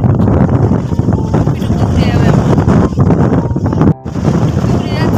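Strong wind buffets the microphone in a loud, continuous roar with gusty surges, briefly dropping out near the end before blowing again.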